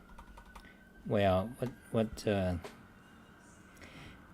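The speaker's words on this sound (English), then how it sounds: "let me do some typing" Soft typing clicks on a Kinesis 360 ergonomic keyboard with brown switches patter in the background while someone speaks a few words over them, the keystrokes continuing faintly between his phrases.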